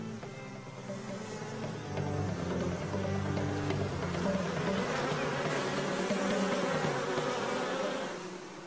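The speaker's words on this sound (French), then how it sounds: "La reine rentre aussitôt à la ruche." Honeybees buzzing around their hive, a dense steady drone of many insects that stays close and loud throughout, with no voices.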